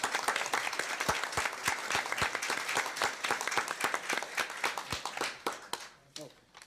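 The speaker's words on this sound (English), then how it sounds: "if you would stand so we can applaud you, please" Council meeting audience applauding veterans and first responders: a mix of sharp, distinct claps from a smallish room crowd, fairly close, thinning out toward the end as a voice starts up.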